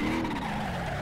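Pickup truck tires skid in the driving game BeamNG, a steady close tire squeal over engine rumble, continuous through the short moment with no talk.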